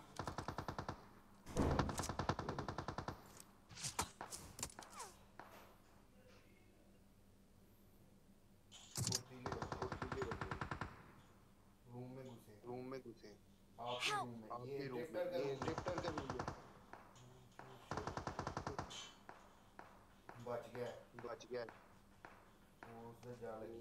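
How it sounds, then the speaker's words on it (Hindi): Gunfire in the mobile battle-royale game PUBG Mobile, sharp rapid automatic bursts that come in several separate volleys with gaps between them, mixed with in-game footsteps, while players talk over the action. "दो गोलियां मार दी मैंने उसको।"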